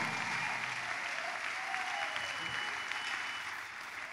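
Steady applause from a church congregation during a safety testimony, a dense wash of clapping that holds at an even level for the whole stretch and eases slightly near the end.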